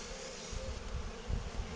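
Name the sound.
honeybees of a wild swarm on a Dadant hive frame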